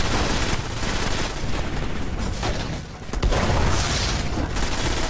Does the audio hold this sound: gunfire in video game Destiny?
yes